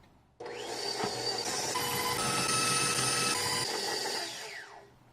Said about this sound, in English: we've got the peanut butter and the butter in the mixer. The flat beater is attached.